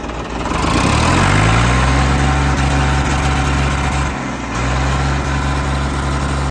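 A tractor engine idles close by at a Punjab village farm, a steady low rumble with a constant throbbing pitch that dips briefly near the middle before settling back, with no voices over it.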